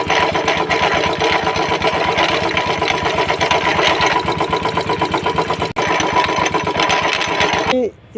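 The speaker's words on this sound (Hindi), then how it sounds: "देखो क्लच के साइड से काफ़ी ज़्यादा आवाज़ आ रहा है।" A motorcycle engine with a faulty self-starter pinion clatters loudly from the clutch side, a rapid, even mechanical rattle over the running engine, close up and continuous until it cuts off near the end.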